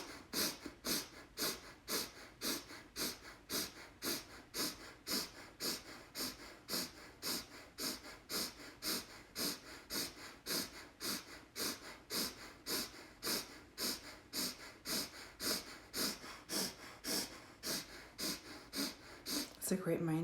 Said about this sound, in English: Go at whatever pace feels right for you if you're doing the breath of fire.